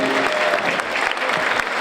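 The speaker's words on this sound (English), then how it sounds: "how about a big round of applause for Big Al Jacobs" Guests at an annual Rotary senior luncheon give a hearty round of applause, a brief burst of many hands clapping together at close, even loudness.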